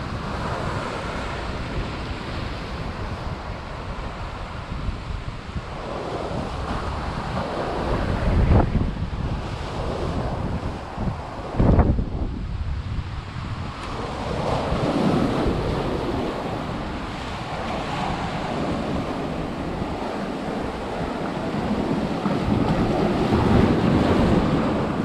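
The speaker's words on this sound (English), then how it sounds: "Sit here, eat your dinner while the waves are crashing." Ocean surf crashing along the rocky St Croix coast beside a natural swimming hole, a steady wash of breaking waves with a couple of louder crashes and gusty wind noise, no voices.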